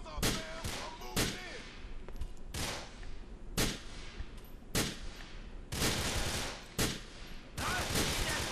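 Gunfire in Grand Theft Auto IV: loud, sharp shots crack out in irregular single reports and quick clusters across the stretch, with game sounds in between.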